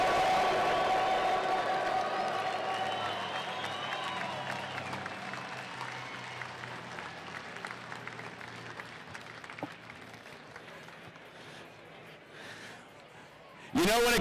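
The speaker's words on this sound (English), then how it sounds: "Make some noise!" Spectators at an outdoor air show cheer, clap and whoop as an old plane flies close by, a dense roar that gradually thins out over several seconds before a sudden loud burst at the end.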